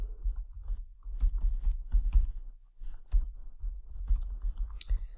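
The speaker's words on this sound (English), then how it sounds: "So I can just type in here." Fingers typing on a computer keyboard, a quick, close run of soft clicking keystrokes with brief pauses between bursts.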